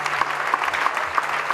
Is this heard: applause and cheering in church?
yes